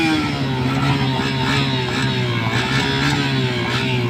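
Honda CBR 1000 big bike engine revs loud and close, a deep throaty roar holding steady with slight rises and dips, running alone without any talk.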